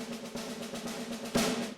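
Quiet attack-timing prompt from the game Battle Against Darkness, a low pulsing tone over a soft droning background, rising into a brief brighter swell near the end.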